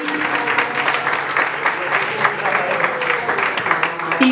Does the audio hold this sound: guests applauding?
yes